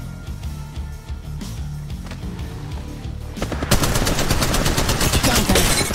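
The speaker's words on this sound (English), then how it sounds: "Shots fired at me." Gunfire in the mobile shooter Apex Legends Mobile: after a stretch of busy game noise, a loud rapid burst of automatic weapon fire rattles continuously to the end, close and dense, with no talk.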